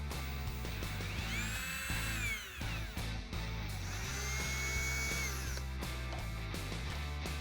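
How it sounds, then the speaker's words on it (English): A power drill drives Phillips head screws into the side rail of a Ford F150 tonneau cover, a Retrax RetraxPRO MX, with loud continuous whirring that rises in pitch twice and dips briefly between runs. "we're just gonna take these new Phillips head screws and run them into both these holes here to lock our rail in place"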